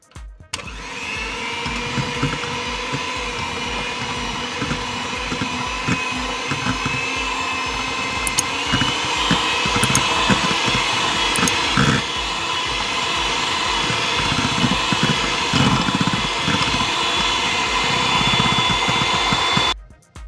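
Electric hand mixer beating mashed potato into a whipped batter for a simple potato cheese sponge cake, a steady close motor whir with faint rattling of the beaters against the bowl, running continuously without talk.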